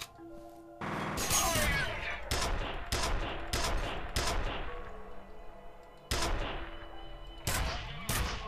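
Gunfire in the video game F.E.A.R., loud repeated shots and bursts with sharp attacks and ringing tails, close and dominant, several clusters across the span.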